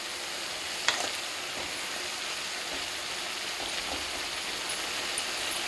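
Chopped vegetables and tomato frying in a pan for a vegetable saagu, a constant close sizzle with a couple of sharp stirring clicks near the start and end.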